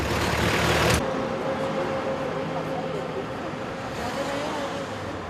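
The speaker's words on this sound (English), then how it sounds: "The four ride in Joel's Chevy along the Malecon, Havana's popular coastal route." A Chevy car driving along Havana's Malecon coastal road, with steady engine and road noise under wind throughout; a louder burst at the start drops off after about a second.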